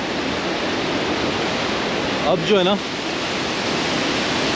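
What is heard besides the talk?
fast-flowing mountain river water, Paddar Valley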